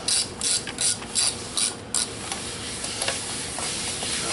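A hand ratchet runs down bolts on a 2007 Mini Cooper S R56 cylinder head, giving quick bursts of close metallic clicking in the first two seconds, then fainter, sparser ticks over a steady workshop background.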